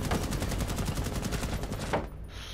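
Rapid automatic gunfire in a video game, a weapon with a 40-round magazine firing a steady fast stream of close, loud shots for about two seconds before cutting off abruptly.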